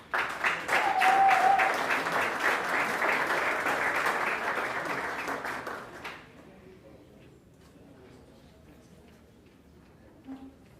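An audience at the WESSA Blue Flag and Green Coast marina awards claps for about six seconds, moderately loud and steady, then stops abruptly into a quiet room with a few faint stray sounds.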